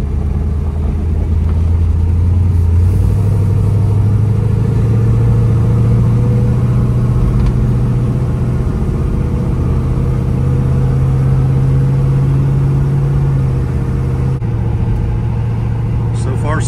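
A Trans Am with a 500 hp 400 small-block Chevy V8 rumbles loud and steady as it is put in gear and driven off, its deep engine note rising slightly. Someone talks over it throughout.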